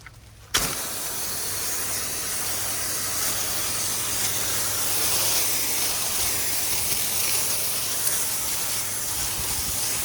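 Pressure washer spraying a house wall, a steady loud hiss of water jet striking siding that starts abruptly after a brief quiet moment and continues unbroken, with a low constant engine hum underneath.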